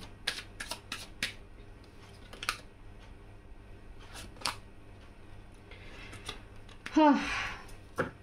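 Tarot cards being shuffled by hand, heard as quiet close flicks and riffles with scattered sharp snaps, and a louder riffle near the end, in a quiet room.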